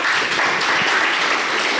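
Dense, steady applause from a conference audience at an anti-corruption day event, clapping for a panel in a brief unbroken burst.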